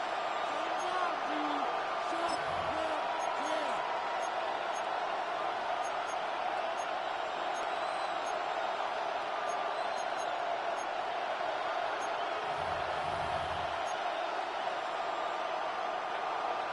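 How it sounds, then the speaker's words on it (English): Steady roar of a football stadium crowd at a Raiders game, swelling as the defense holds in the red zone heading to third down, a constant wash of cheering throughout with a brief low thump near the end. "This crowd into it now as we get to third down"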